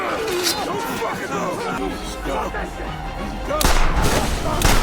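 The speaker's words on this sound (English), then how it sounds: "Gunshots rang out, forcing the convicts to retreat for a moment" Gunfire crackles through a chaotic movie scene in which escaped convicts attack near a helicopter, with shouting and crowd babble beneath it before a louder, sustained burst of shots at the end.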